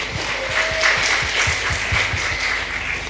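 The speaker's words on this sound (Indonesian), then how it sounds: "Tepuk tangan untuk NU." An audience at a heated religious debate applauds, with scattered hands clapping in an uneven rhythm and loud, close claps standing out over a hum of crowd noise.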